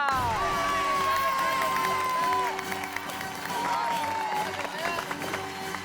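An audience at a magic show in a housing society courtyard claps and cheers loudly for the magician while voices talk and call out over the crowd.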